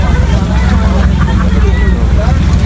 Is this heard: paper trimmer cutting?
no